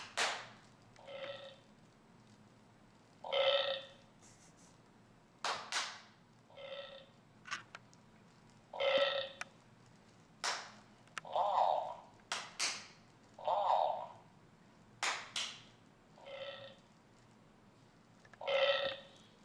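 A WowWee Coder MiP programmable robot plays its burping sound effect again and again, as loud, distinct belches separated by short pauses, with sharp clicks and quieter sounds in between.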